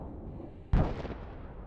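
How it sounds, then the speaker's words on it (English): A single powerful explosion from a drone strike on a Russian munitions stock bursts suddenly after quiet rumble, then a loud broadband blast decays into a lingering roar. "The powerful explosion means that a large stock of Russian munitions was eliminated."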